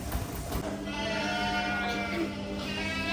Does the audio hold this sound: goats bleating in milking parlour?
yes